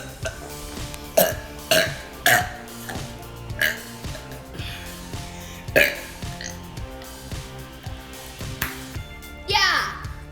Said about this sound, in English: we're gonna see who has the longest and loudest burp